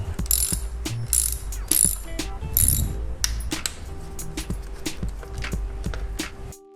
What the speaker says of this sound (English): Going to take the front sprocket cover off right here. It's going to be your 5mm hex.